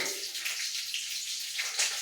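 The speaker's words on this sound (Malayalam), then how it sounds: "ഇതിലേക്ക് കുറച്ച് കറിവേപ്പില ഇട്ട് കൊടുക്കണം" Curry leaves and mustard seeds sizzling in hot oil while cooking mathi peera, a steady bright hiss and crackle with a few sharper spits, close and fairly loud, with no talking.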